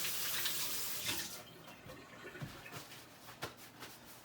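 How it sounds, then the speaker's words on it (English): A tap runs loudly as hands are washed at a hunt camp, with the steady stream giving way to softer splashes and rubbing sounds as the hands move under the water. "So we're just going to do a quick hand wash."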